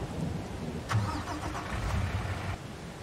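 Vehicle engine in the farming game Landwirtschafts-Simulator 22 turning over and catching, a brief starter burst followed by a steady mid-pitched idle rumble that cuts off near the end.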